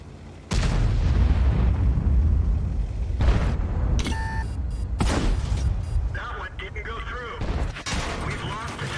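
In World of Tanks, a tank shell strikes the tracks of an Object 140 tank, a sudden heavy impact bursting out of quiet and followed by further booms, rumbling battle noise, and electronic game effects.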